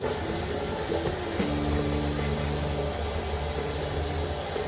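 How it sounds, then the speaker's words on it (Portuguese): Stand mixer beating sugar and butter into a pale, fluffy cream for homemade biscuits, a steady motor whir with a constant hum that holds evenly throughout, no voices. "Na batedeira eu vou bater o açúcar e a manteiga até ele ficar um creme bem clarinho e fofo"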